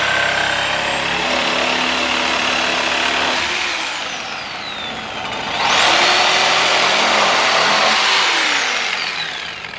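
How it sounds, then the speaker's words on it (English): Sawzall reciprocating saw cutting during an LSX engine swap on a Chevrolet Colorado, loud close buzzing bursts of the blade, pausing briefly midway then restarting at higher pitch. "then we'll get the Sawzall back in action"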